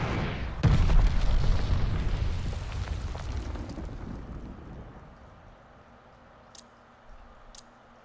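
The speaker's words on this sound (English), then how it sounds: "Enemy glide bomb coming in hot!" A heavy, booming blast from an enemy glide bomb in the Call of Duty: Vanguard shooter game, landing close and loud, then rumbling off into a long, fading debris tail.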